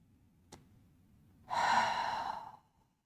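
A single long, breathy exhale during a quick yoga session, near and clear, lasting about a second after a faint click, then fading to quiet.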